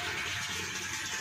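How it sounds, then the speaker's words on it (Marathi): Water pours steadily into a storage tank on a farm. The brief, continuous rushing splash carries broadband hiss with no voices. "तर टाकीत आत्ताशी पाणी सुरुवात झाली आहे व्यवस्थित पडायला।"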